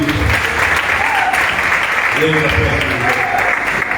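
Steady applause and cheering from a crowd at a wedding party celebration, a continuous loud wash of clapping with voices mixed in throughout.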